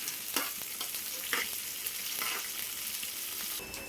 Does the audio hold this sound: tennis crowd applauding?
no